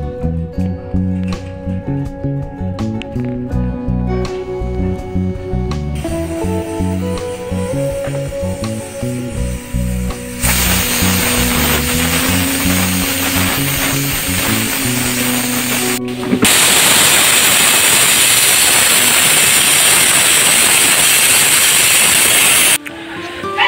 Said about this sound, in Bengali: আমি চুলায় প্রেসার কুকারটি বসিয়ে দিলাম। আমি এটা 5টা থেকে 6টা সিটি দিয়ে নেব।